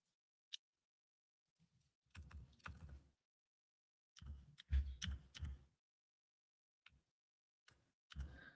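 Someone types on a computer keyboard in several separate bursts of rapid clicking keystrokes, with short pauses and occasional single taps between them. The typing is fairly quiet and close, with no talking.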